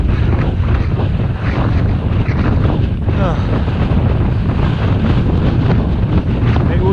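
Strong headwind roars into the microphone while cycling through a storm on a long road ride, a loud, continuous broadband buffeting that never lets up across the whole stretch.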